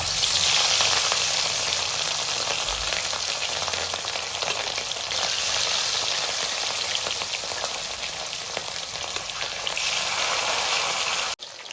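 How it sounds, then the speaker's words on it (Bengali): Fish fries in oil in a wok, a loud, dense, continuous crackling sizzle heard up close and alone, steady for the whole stretch before cutting off abruptly at the end. "তো মাছগুলো ভেজে নিচ্ছি"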